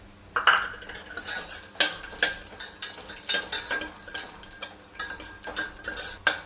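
Onions fry in a pan as cashew nuts and black raisins are tipped in and stirred, with repeated scraping and clinking of a spoon over a soft sizzle.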